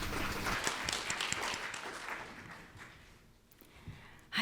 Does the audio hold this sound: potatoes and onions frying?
no